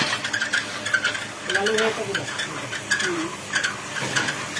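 A rotating puffed rice roasting machine churns with a continuous metallic scraping and rattling of rice grains in iron pans, recurring in an uneven rhythm, close by.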